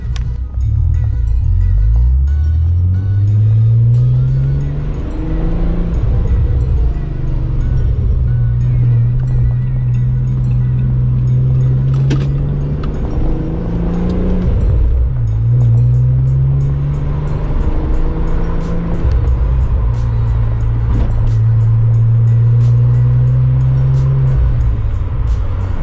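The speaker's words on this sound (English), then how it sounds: "Driving this car with all these nice VR sounds" A Volkswagen Jetta wagon's VR6 engine drones loudly while driving on a back road, rising and falling through repeated accelerations and gear shifts, with a deep, throaty note up close.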